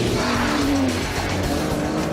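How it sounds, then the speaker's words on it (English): A 510-horsepower Aston Martin DBS V12 runs steadily, its engine note holding a loud, continuous drone with a brief rising tone, close and without speech. "the sheer sound of that V12 warming up"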